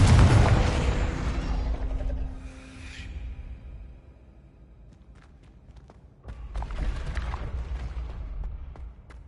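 A loud blast from a Confringo spell in Hogwarts Legacy booms up front, then fades into a long rumbling tail. A softer whooshing burst and crackle follow a few seconds later.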